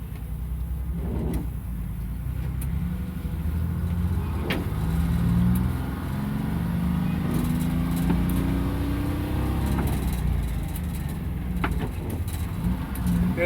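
A bus engine drones low and steady while the vehicle drives slowly through town, with a rising engine tone midway and occasional clicks and bumps over a continuous rumble; no one speaks.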